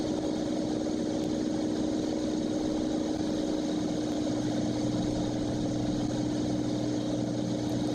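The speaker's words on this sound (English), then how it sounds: "Since the engine is still generating plenty of power" A Cirrus SR22 aircraft engine drones steadily in flight from inside the cockpit, a constant loud hum with a fixed tonal pitch and no pauses.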